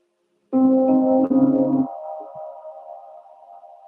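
A low bass guitar note sounds, then a second note follows, with a reverb tail from an SP-404 MKII sampler lingering and slowly fading after the notes stop.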